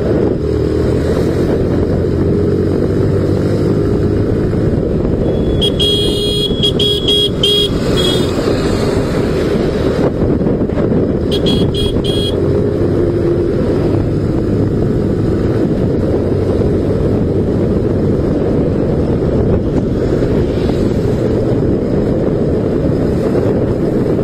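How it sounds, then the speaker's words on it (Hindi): Pulsar NS200 BS3 and NS160 motorcycles race along a highway, with a steady loud engine drone and heavy wind buffeting on the microphone throughout, plus a couple of brief horn toots from passing traffic. "तो भाई लोग चलिए बाइक भगाना स्टार्ट करते हैं"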